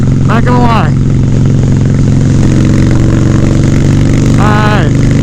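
A Harley Softail motorcycle cruising at about 70 mph gives a loud, steady engine drone under constant wind roar. Brief voice sounds rise over it at the start and near the end.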